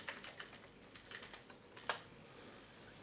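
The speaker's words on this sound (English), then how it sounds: "I'm just going to type the username." Quick, light clicking of a computer keyboard as a username is typed at a Linux login on a small stick computer, keystrokes in an irregular close-up patter, with no voices.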